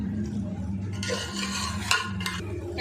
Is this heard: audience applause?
no